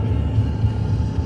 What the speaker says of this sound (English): Gotta love them rumble bars.